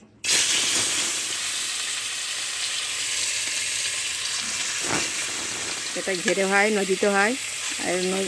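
Fish pieces, a mix of dantna and farmed poysa fish, sizzle in hot oil in a pan for curry with potatoes, a steady loud frying hiss throughout, with a person talking over it toward the end.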